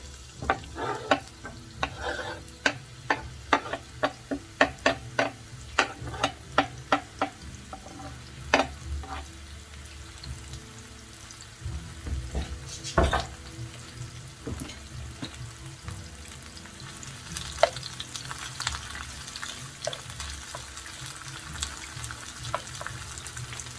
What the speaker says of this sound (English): Got my olive oil in the skillet. It's nice and hot. I'll add the onions.